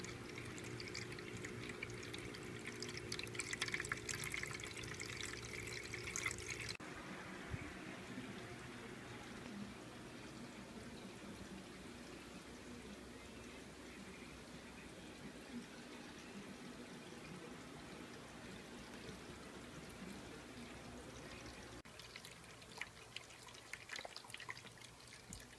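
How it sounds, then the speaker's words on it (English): A Drinkwell pet water fountain on its low setting gives a very faint, steady trickle of running water throughout, quiet and close, with a slight change in texture partway through. "So if you put it on low, you can barely hear the water at all."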